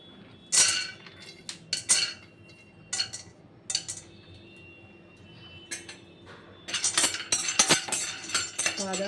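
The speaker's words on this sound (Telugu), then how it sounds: "ఇంకా బాదాము అవి వేయించుకుందాం" Almonds being dry-roasted in a pan while making dry fruit laddus, with scattered clinks and taps of nuts and a spoon against the metal, in short bursts with quiet gaps and a busier stretch at the end.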